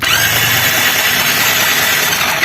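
A Hero Splendor BS6 FI motorcycle's electric self-starter cranks continuously without the engine catching, a loud, steady whirring grind held for the whole stretch, with no voices.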